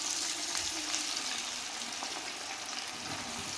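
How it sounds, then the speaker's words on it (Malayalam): A batch of jackfruit chips frying in hot oil, a steady dense sizzle and bubbling heard close and alone, with no talking. "അപ്പം ഇനി അടുത്ത ബാച്ച് വറക്കാനിടാം അല്ലേ?"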